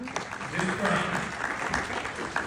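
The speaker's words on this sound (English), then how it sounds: "I see Peggy clapping" A small audience at a local news broadcast claps briefly, a light patter of hands under and around a speaking voice.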